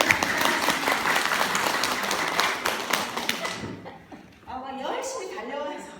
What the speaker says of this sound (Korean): 박수를 쳐주시라고.